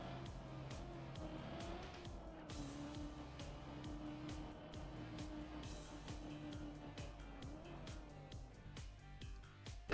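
A race car entering the pit lane in the Trackmania video game, with a steady, moderately quiet engine drone whose pitch rises and falls slightly, plus repeated short clicks throughout.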